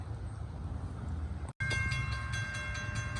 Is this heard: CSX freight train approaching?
yes